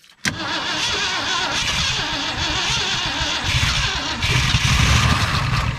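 A 1968 Ford F100 Ranger, long abandoned, cranks over with a loud, steady engine churn and exhaust blowing out through a likely hole, sustained and close for the whole stretch.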